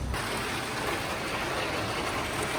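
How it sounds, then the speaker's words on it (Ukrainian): A dense, steady roar of a heavy downpour with large hailstones pounding down, with a constant hiss and thick patter of drops and no voices. "злива з великими шматками граду"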